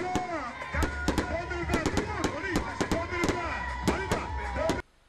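Rapid fireworks bangs and crackles pop repeatedly at an irregular pace over a village, mixed with voices talking over the bursts, then cut off abruptly.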